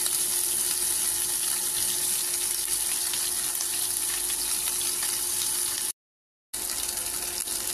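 Chicken pieces fry in a frying pan, giving a steady, close, broadband hiss and crackle that continues without pause apart from a brief dropout near the end; no voices.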